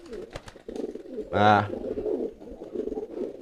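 A male racing pigeon coos loudly while courting, one strong rolling coo near the middle, with someone speaking briefly over other low pigeon sounds.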